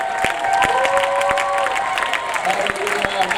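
Church congregation applauding loudly and steadily at a Sunday school recap, dense clapping throughout with voices and a sung or spoken line over it.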